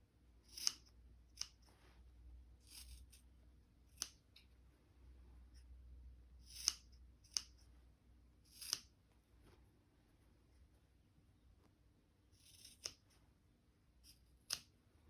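Sharp scissors clip through the sewn seam of a blouse or dress, a series of isolated crisp snips spaced irregularly over quiet room tone.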